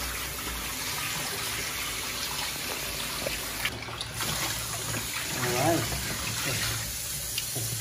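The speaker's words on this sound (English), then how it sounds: "final wash now. Just put the water on." Water runs from a tap over rice for its final wash before cooking in a rice cooker, a steady splashing gush with a voice speaking partway through.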